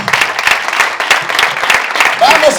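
Loud, close audience clapping at a children's presentation, brisk and continuous throughout, with a raised voice calling out over the clapping near the end.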